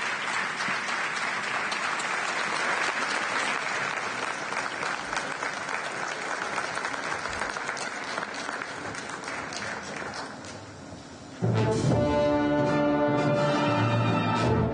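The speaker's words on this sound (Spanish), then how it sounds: "Un fuerte aplauso para nuestro director, Rafael González García." Concert audience applauding the director at a Broadway-themed concert, a steady, full wash of clapping from a large crowd that sustains for about ten seconds, dips, then swells louder again as music begins.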